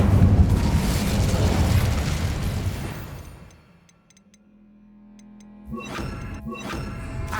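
The Incendio fire spell is cast in Hogwarts Legacy: a loud, roaring burst of flame that swells and then fades away over about three seconds, followed by quieter clunks and thuds.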